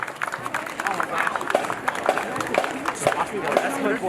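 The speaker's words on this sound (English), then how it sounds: "Big round of applause for the Fusion Corps Drums and Bugle." Crowd applause at a St Patrick's parade in Bergen County: scattered clapping and cheering from an outdoor street crowd, moderately loud and continuous, mixed with nearby chatter and voices talking.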